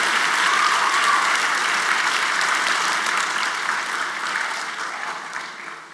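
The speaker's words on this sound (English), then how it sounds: "Can we give them a round of applause?" Sustained applause from a large audience at a first-generation student celebration, steady and full for several seconds before tapering slightly toward the end.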